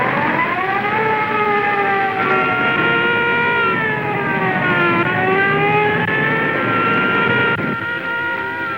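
Several police radio cars in a 1937 film wail their sirens together, loud and continuous, with layered rising and falling tones sweeping over a low motor rumble and no voices.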